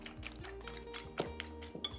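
Fried potatoes being stirred into an egg mixture in a bowl for a sardine omelette, with repeated light clinks and scrapes of a utensil against the bowl in an irregular rhythm, close and fairly quiet.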